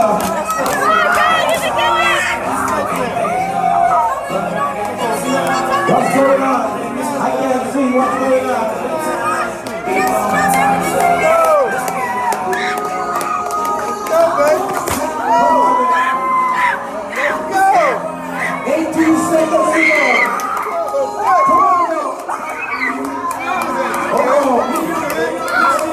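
Restaurant crowd at Margaritaville cheering on a 12-minute cheeseburger eating challenge, loud continuous shouting, whoops and chatter from many people close by, with voices urging over the din throughout.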